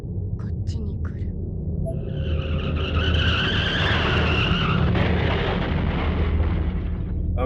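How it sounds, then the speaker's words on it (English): A car skids with a long, loud tire screech followed by a heavy crash and rumbling impact, in the horror video game Corpse Party: Blood Drive, sustained throughout with no talk. "Then, there's an oddly familiar sound. Another car accident."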